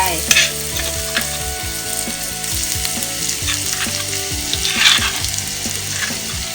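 Pounded coriander root, garlic and black pepper sizzle steadily in leftover garlic-frying oil for Thai garlic pork, a continuous crackling fry with scraping stirs, close and fairly loud, no talking.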